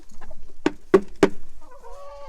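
Backyard chickens clucking close by, with a few short sharp clucks followed by a drawn-out, tonal murmuring call, in a quiet setting.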